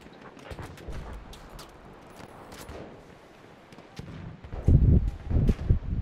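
Gunfire in Battlefield 1 crackles as scattered shots and short bursts over rumbling battle noise, growing heavier and louder in the final seconds.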